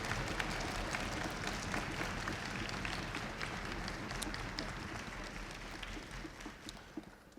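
A middle school honor orchestra concert audience applauds the orchestra faculty, a steady, fairly quiet wash of clapping that holds for the whole stretch with faint crowd murmur underneath.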